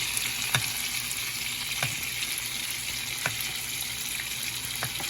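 Salmon fries steadily in a pan of honey garlic butter sauce, a constant close sizzle with a few soft clinks as the fish is basted, no talking.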